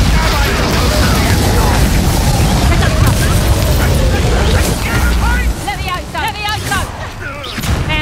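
A Confringo spell bursts during Hogwarts Legacy combat, a dense rumbling blast sustained under heavy game noise and crackling effects, with someone talking over it.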